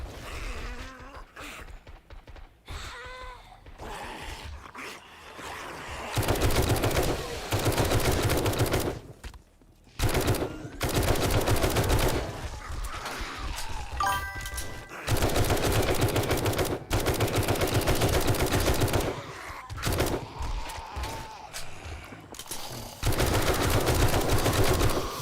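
Rapid bursts of automatic gunfire ring out in the zombie survival game 7 Days to Die, loud and repeated in long volleys separated by brief quiet gaps, with no talking over it.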